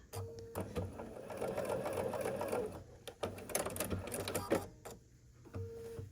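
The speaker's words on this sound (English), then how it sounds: "we're gonna sew along that line as well" A sewing machine runs in a steady burst, stitching along a marked line on a scrappy sampler quilt block, then slows and stops, starting again briefly near the end in a quiet room.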